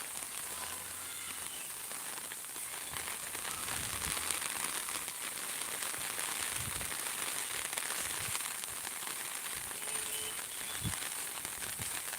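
Heavy morning rain falls on Akala village, a thick unbroken roar close by, with scattered louder drips and taps standing out from the steady wash and no voices.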